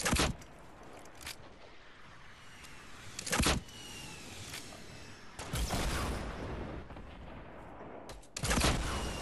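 Gunfire in the Fortnite video game: a few sharp, widely spaced loud bursts over a steady background rumble, fairly close.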